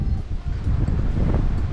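Strong gusting wind at a horse stable buffets the microphone, a constant low roar with rough bursts throughout, loud and close.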